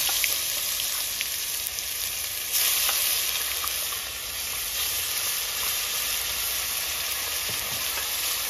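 Fish curry frying in hot oil with tomato, onion, garlic and ginger, a steady close sizzle with soft stirring scrapes running throughout, no voices.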